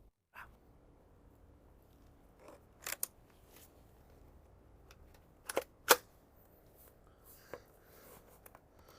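An AR-7 survival rifle is reloaded nearby: a handful of sharp metallic clicks and clacks in small clusters, separated by quiet pauses against a faint background.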